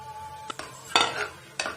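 Spice paste of ground coconut, green chili, cinnamon, clove and fennel is added to chicken masala gravy in a pan, heard as a few short metallic spoon-and-pan clanks with a brief scraping rustle, close and fairly quiet.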